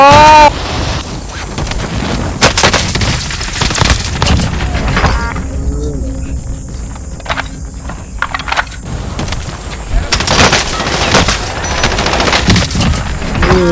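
Dense bursts of automatic machine gun fire from a Call of Duty Warzone match, loud and close, with rapid volleys at the start and again toward the end and a quieter stretch of sparse shots in between.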